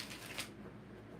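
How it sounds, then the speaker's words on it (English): Tarot cards are shuffled by hand, a brief soft riffling flutter, quiet and close, with no voices. "3 more shuffles."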